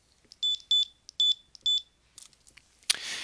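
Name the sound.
RFID scanner beeping while reading tags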